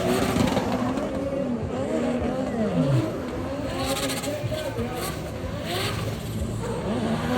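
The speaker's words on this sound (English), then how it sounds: "one of the only drift cars in Thailand that actually use an LS" LS V8-swapped Nissan sedan drift car fitted with R34 body panels at a drift event in Southern Thailand, its engine roaring and revving continuously with rising and falling pitch, loud and close, with crowd voices underneath.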